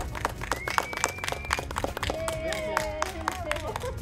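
People clap for a bird so it moves and dances its wings as in courtship, a broadband patter of claps running throughout alongside bright bird-like whistles and other background sound.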